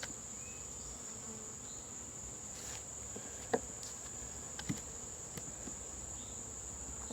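Honeybees hum around an open hive, a faint steady buzzing drone in the background, broken by a few soft clicks and knocks from handling the frames.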